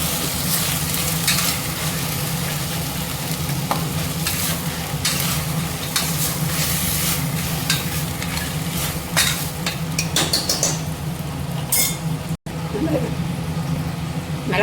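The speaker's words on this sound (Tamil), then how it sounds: "இதை நல்லா கலந்து விட்டுக்கலாம்." A spoon stirs chickpea curry in a sizzling pan, with steady scraping strokes over continuous frying, and a voice talks over it at times.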